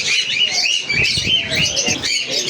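Caged pet birds and pigeons for sale chirp and twitter continuously. The dense, overlapping calls come from several birds at once, fairly loud and close, with no talking.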